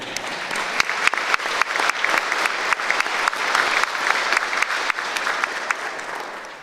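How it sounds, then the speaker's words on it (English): Sustained, loud audience applause at a governor's State of the Commonwealth address, with many sharp individual claps over a dense crowd wash that swells and then tapers off at the end. "You deserve at least 2 rounds of applause."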